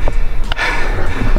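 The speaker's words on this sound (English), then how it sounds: "he's out of breath" Heavy, ragged breathing and gasps from a mountain biker out of breath after pushing his bike up a steep Whistler trail, loud and close, with short gasping bursts throughout.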